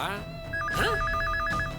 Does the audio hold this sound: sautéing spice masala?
no